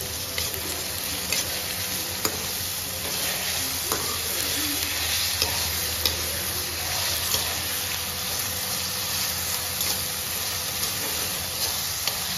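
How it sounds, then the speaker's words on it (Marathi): Small tomatoes tossed into a pan of sizzling spicy sukka chicken, a continuous frying hiss with intermittent stirring clicks and scrapes, no talking. "मग मी टाकत आहे टोमॅटो।"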